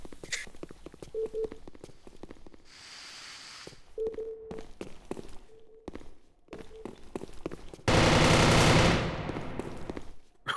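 Gunfire in the video game Ghost Gauntlet crackles in short bursts among footsteps and clicks, ending in a loud sustained blast of rapid fire.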